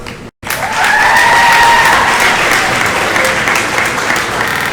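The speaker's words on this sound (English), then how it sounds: "Graduates, please stand up to give your parents a special round of applause." A graduation audience gives a loud, sustained round of applause for the graduates' parents, dense clapping filling the hall after a brief dropout at the start.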